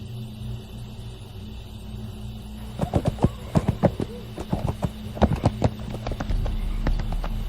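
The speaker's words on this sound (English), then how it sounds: "As my horse, Providence, crested the west ridge" Horse hooves clopping in a Splatterhouse video game scene, a rapid run of sharp, close knocks in an uneven galloping rhythm over a low ambient rumble, fading out near the end.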